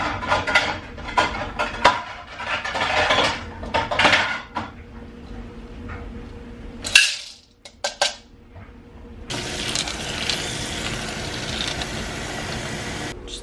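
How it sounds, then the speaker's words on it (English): Kitchen items rinsed at a sink: dishes clink and clatter against each other under a splash of running water, then a short pause and a steadier stream of tap water near the end. "I'm just gonna rinse these"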